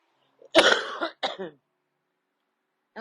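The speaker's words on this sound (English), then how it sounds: "I didn't mean to cough in your ear." Close, loud coughing: a harsh cough followed by a second shorter one and throat clearing, then a voice starts speaking at the end.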